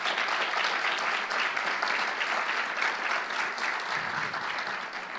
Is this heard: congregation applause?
yes